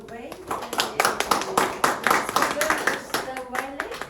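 Audience applause at a London testimony event, a small crowd clapping steadily and fairly close for several seconds, with voices mixed in.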